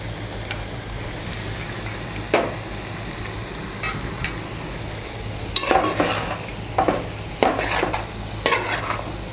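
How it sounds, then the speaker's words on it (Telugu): Garam masala powder is stirred into an oats chicken biryani in a pan, a utensil scraping in irregular bursts against the metal over a soft, steady sizzle, close and moderately loud. "ఈ గరం మసాలా పౌడర్ని ఇందులో మిక్స్ చేసేస్తాము"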